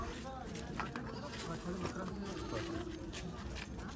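A black goat bleats several times in a crowded livestock market. The calls are faint and mid-distance under continuous bidding chatter and steady crowd noise.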